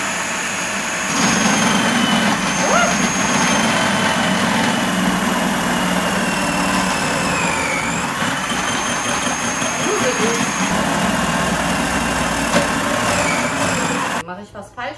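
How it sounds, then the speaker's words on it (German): A new kitchen food processor grinds steadily for about fourteen seconds, a loud continuous motor whir with a strained high whine, then cuts off abruptly near the end. "ich habe mir eine neue Küchenmaschine gekauft"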